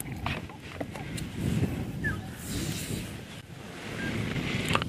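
Wind gusts on a cool, windy morning out in the bush, a steady broadband rush that swells and eases over the whole stretch, with soft rumbling buffets on the microphone and faint background sounds.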